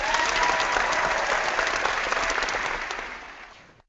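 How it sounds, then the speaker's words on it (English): Round of applause sound effect: a dense, steady burst of crowd clapping that fades out over about four seconds. "I'm giving myself a round of motherfucking applause."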